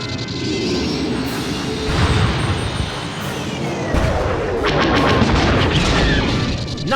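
Star Wars space battle shooting with starfighters and laser blasts: a loud continuous roar of booms and bursts, with sharp repeated shots flaring up in the second half.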